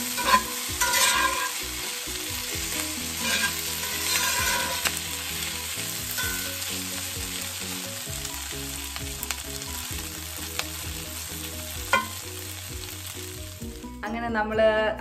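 Chinese-style chili beef with sesame seeds is stirred in a hot pan, a steady sizzle broken by scraping and clanking strokes throughout, with a few louder knocks and a busier rattle near the end; nobody speaks.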